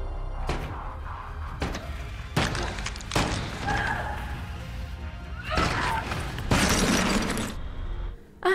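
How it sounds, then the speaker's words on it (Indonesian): Repeated heavy impacts of an iron filter bar smashing a fiberglass pool cover in a film scene. Several loud crashing blows land at irregular intervals, with cracking and clattering between them and faint voices in places. "Sekuat tenaga, si Jonah usaha buat mukul-mukulin fiberglass-nya pakai besi saringan itu."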